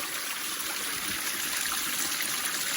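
A stream at a waterfall flows with a steady, bright rushing and trickling wash, close and continuous without pause.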